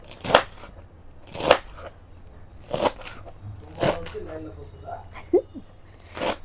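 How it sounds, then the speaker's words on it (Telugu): A knife chops fresh coriander for a juice in several sharp, crisp strokes spaced about a second apart, close to the listener, with faint bits of voice between the cuts. "కట్ చేసుకుందాం ఇలా"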